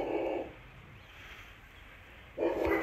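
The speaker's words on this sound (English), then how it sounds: "Ooh, a big dog over the fence." A big dog barks from behind a fence near a backyard shed and carport, two loud bursts of barking at the start and again at the end with quieter outdoor background between.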